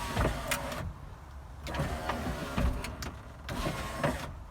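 An electric power window on a Toyota Celica VVTi runs in several short motor whirs, each pass a close, steady hum that stops with a soft thunk before the next begins.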